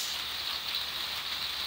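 Rain falls steadily on a roadside on a wet day, a constant close hiss of drops hitting surfaces with no voices over it.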